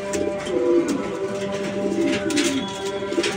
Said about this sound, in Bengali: এইখানে সব নর কবুতর